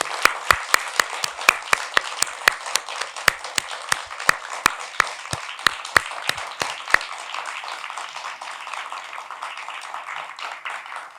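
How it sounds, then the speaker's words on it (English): Audience applause following student readings at a creative writing graduate reading, a dense wash of many hands clapping with sharp individual claps standing out early, then thinning and fading out toward the end. "please join me in giving them a loud and warm round of applause"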